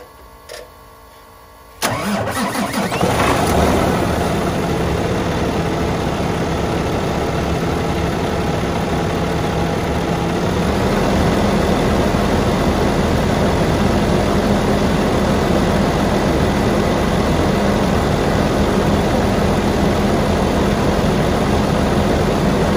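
A Peterbilt 389 truck's engine cranks and catches after a brief quiet start, then settles into a loud, steady diesel idle that runs without a break for the rest of the clip.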